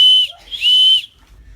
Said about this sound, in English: With one hand, I felt above my head for the line of the steam whistle and jerked out screech after screech